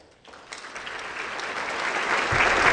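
Applause at a school awards ceremony starts sparse and quiet, then swells into a fuller, steady clapping from the audience that keeps building.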